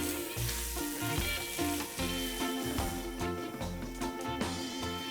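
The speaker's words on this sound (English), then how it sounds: "add a tablespoon of ginger paste, a tablespoon of garlic paste. We got to fry this for a minute" Ginger and garlic paste frying for a minute in hot oil for mutton korma biryani, a steady dense sizzle running throughout with irregular spoon scrapes and clatter; no talking.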